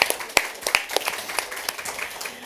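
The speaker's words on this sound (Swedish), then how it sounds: "Få en liten applåd också." Short burst of audience applause at a talk, a scattering of sharp claps fading within a couple of seconds, no voices over it.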